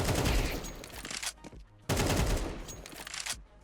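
Rapid automatic fire from an AK rifle in Counter-Strike 2, two loud sustained bursts separated by a brief pause, close and dominating.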